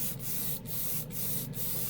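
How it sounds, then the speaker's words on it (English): Spray gun misting light coats of gray paint in short bursts, four quick hissing sprays in a steady rhythm with brief gaps between, close and fairly loud, no voices. "so mist everything on lightly. This is the gray."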